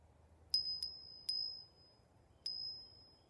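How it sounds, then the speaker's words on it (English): Small snowman-shaped bell hanging on a tree branch, rung in four bright tinkling dings, three close together and one after a pause, each ringing briefly in an otherwise quiet setting. "It's a bell in the shape of a snowman."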